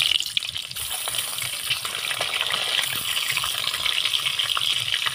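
Eggs frying in hot oil with salt and turmeric, a steady close sizzle and crackle that hisses evenly throughout with no talking.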